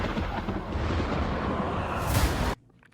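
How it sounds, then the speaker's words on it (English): Deep, rumbling distant thunder from a Ghostbusters: Frozen Empire movie trailer, a continuous heavy roll that swells near the end and then cuts off abruptly. "Distant Thunder."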